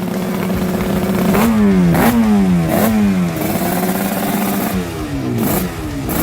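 Suzuki RG500 two-stroke motorcycle engine revving hard in a run of sharp, rising bursts, each climb dropping back before the next, loud and close with a harsh metallic rasp and no voices.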